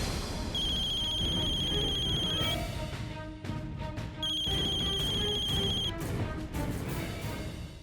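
Two bursts of a high electronic phone ring, each trilling for about two seconds, with a pause between, sounding over a constant loud background of dramatic music.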